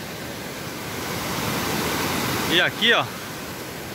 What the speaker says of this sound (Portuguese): Aonde você olha é cachoeira.